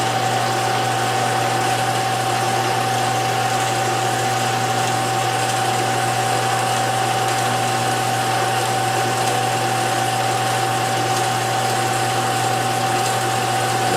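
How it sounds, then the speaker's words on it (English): A small John Deere tractor engine runs at a steady idle, a constant loud drone with a sustained hum and no change in pace throughout. "My little John Deere tractor will take care of that."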